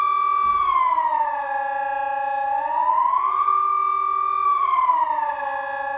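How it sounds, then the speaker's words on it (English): A loud Swiss civil defense siren wails steadily, its pitch slowly rising and falling in long sweeping cycles, with no other sounds. "the first one on my list is the siren that almost caused me to jump out"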